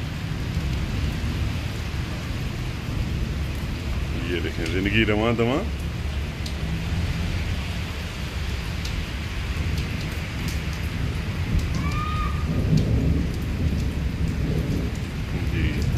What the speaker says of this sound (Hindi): जी थंडरिंग की आवाज़ आप सुन रहे होंगे